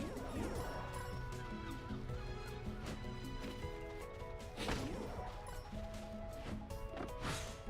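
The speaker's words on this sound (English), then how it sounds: "Boys love the sound of birds singing, even when they're smashing into me and dealing damage." Chirping and warbling birdsong in the video game Dracamar plays continuously alongside game sound effects and short thuds of birds smashing into the player.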